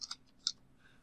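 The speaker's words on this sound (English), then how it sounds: "once you click that, you can click next" Two quick computer mouse clicks, roughly half a second apart, close and crisp in a quiet room with no talking.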